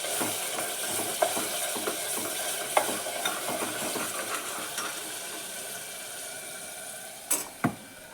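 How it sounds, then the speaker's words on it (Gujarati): Ingredients for a mutton dish fry in a pan with a steady, moderate sizzling hiss, dotted with light clicks and scrapes of stirring and a few sharper knocks near the end. "આપણે આને બરાબર ફ્રાય કરી લઈશું"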